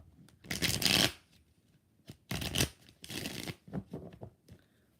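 Tarot cards riffled and shuffled by hand in three separate bursts, crisp papery flutters up close with short pauses between, no talking.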